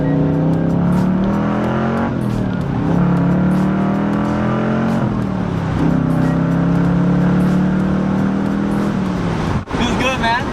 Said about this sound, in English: you can hear that growl a little bit more with the sport mode